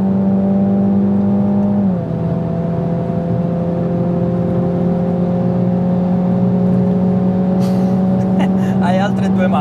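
A Mini GP3 engine drones at a steady loud pitch. It dips briefly as it shifts, then keeps pulling hard under acceleration, with faint clicks and chatter near the end.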